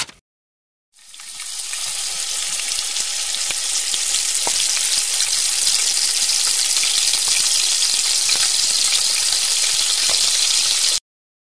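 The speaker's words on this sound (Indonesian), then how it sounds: "Mau goreng nugget?" Nuggets frying in a pan in a cartoon, a steady loud sizzle that starts abruptly after a moment of silence, holds evenly for about ten seconds with occasional pops, then cuts off sharply.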